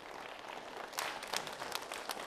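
Faint audience applause at a literary evening honoring a Kyrgyz writer, a soft patter of clapping with a few sharper claps rising near the middle, distant and low in level.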